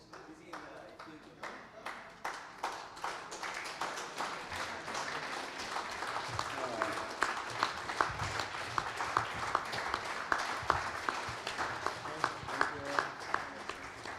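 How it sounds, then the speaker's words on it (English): An audience at a sports carnival applauding volunteers on stage, a steady, fairly faint spread of clapping with periodic louder beats and voices mixed in throughout. "so we can stand up and applaud them"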